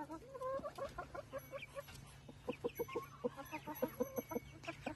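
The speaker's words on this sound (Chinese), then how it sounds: "刚刚主教鸡在唱歌，" A hen clucks and calls in a near, rapid, rhythmic series of bursts as she waits to lay, over a low background hum.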